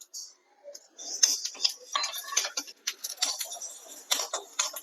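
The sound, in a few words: mustard seeds and fenugreek crackling while roasting in a pan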